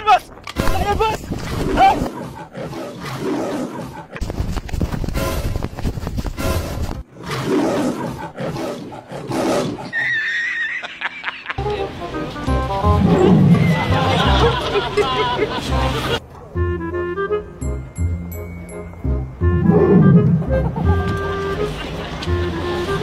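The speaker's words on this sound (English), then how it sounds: "Lion!" Loud lion roars in a funny short-video compilation, rough roaring bursts over crowd babble and music, with people talking and shouting throughout.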